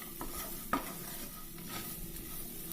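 Onions and jackfruit seeds stirred in a frying pan, a soft steady sizzle with a spoon scraping the pan and one sharp clink partway through, close and fairly quiet.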